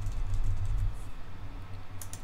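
Quick typing of a search term on a computer keyboard, soft clustered key clicks set against a steady low hum, with no one talking.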